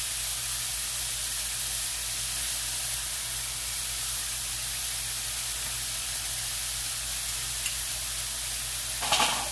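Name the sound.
leftover rice heating and sizzling in a skillet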